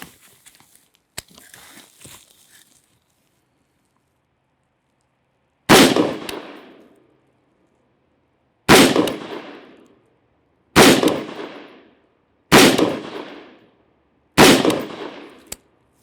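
Rifle shots fired from a prone position with the magazine resting on the ground: five sharp, loud cracks spaced a couple of seconds apart, each with a short decaying echo, after faint clicks and handling noises.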